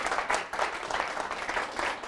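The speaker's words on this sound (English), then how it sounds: "if you guys would give Jason a round of applause" An audience at a real estate class applauds, a steady wash of many hands clapping together at moderate distance, sustained evenly throughout without voices over it.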